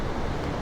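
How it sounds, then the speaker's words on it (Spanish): Ocean waves hitting the shore hard at Cascais, Portugal, a steady, dense roar of surf with no talk over it. "Es que acá las olas sí pegan como fuertecito."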